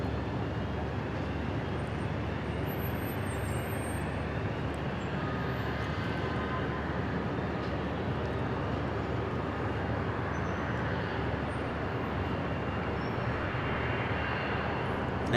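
An Embraer jet arrives at Dallas Love Field, a faint, even engine roar sustained across the whole stretch without talk.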